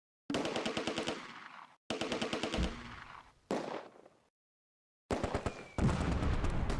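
Bursts of machine-gun and rifle fire from a Close Combat: A Bridge Too Far battle at Arnhem Bridge, four separate loud rapid rattling volleys split by short silences.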